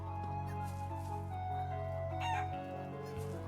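A chicken in the video game Trails of Cold Steel II gives a brief cluck over a steady, sustained musical backdrop, with no speech during the clip.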